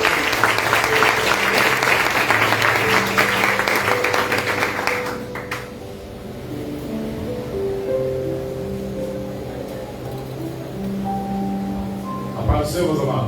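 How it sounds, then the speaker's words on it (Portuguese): Church congregation applauding together for about five seconds, a dense burst of clapping that then stops, leaving a sustained musical tone from instruments underneath and a short knock near the end. "igreja, vamos aplaudir bem forte o nome do Senhor."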